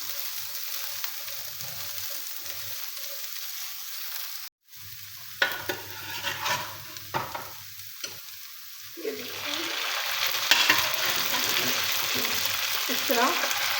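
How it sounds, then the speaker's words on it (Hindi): Mutton pieces dropped into a pan of lightly browned onions, a steady hiss of frying with a brief cut, then clattering stirs and spoon knocks before the sizzle swells louder and denser. "अब हम जो है ना इसमें गोश्त शामिल करते हैं।"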